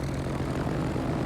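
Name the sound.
torpedo bomber planes flying in video game World of Warships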